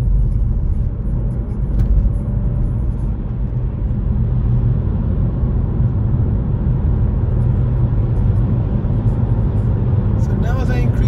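A car pulls away on a suburban UK road near Leeds Horsforth, its engine rumble rising gently and steadily, close and continuous, with a voice talking over it throughout.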